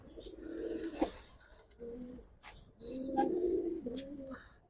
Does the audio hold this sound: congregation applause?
no